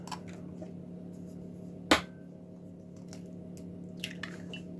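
Eggs cracked one at a time into a bacon, cheese and onion quiche mixture in a large pan: a single sharp crack near the two-second mark, with a few faint wet clicks afterwards over a steady kitchen hum.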